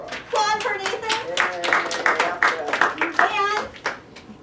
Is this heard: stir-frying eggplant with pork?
no